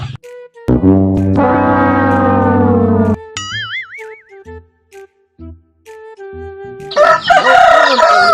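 A rooster crows loudly and close by in one long, harmonic call, followed by squeaky, wavering chirps and scattered clucks, ending in a burst of noisy crowing and fowl calls.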